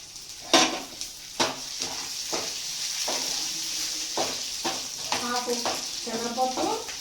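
Dried red chillies frying in oil in a pan with cumin and lentils for an onion-jaggery chutney, a continuous sizzle broken by several scraping stirs of a spoon against the pan.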